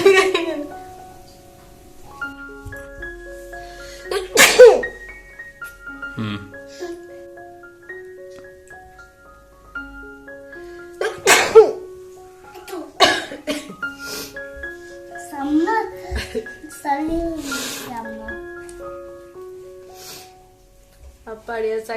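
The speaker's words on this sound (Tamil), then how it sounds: "அப்புறம் இதில் நம்ம மிளகு பவுடருக்கு மட்டும்தான் 3 தும்மலுமே வந்தது." Sneezes set off by pepper powder during a sneezing challenge, several sharp bursts spaced apart between stretches of people talking.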